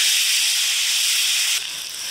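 Potatoes dropped into hot oil left over from frying fish, a loud dense hiss close by that drops suddenly near the end.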